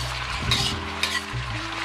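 Shiitake mushrooms hit a hot wok alongside sea cucumber, giving a loud steady sizzle and frying hiss with a couple of sharp spatula scrapes and stirring clatter.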